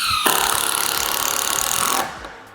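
Continuous whirring of a power drill driving a screw through a metal fence panel clamped in a jig, steady for about two seconds before cutting off abruptly, close and moderately loud with no talk.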